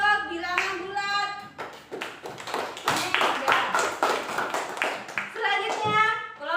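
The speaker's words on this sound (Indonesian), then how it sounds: "Tepuk tangan untuk kelompok bilangan bulat." Students clap in a classroom for a group that has just presented, a burst of rapid, uneven hand claps rising and falling over several seconds, with brief voices before and after.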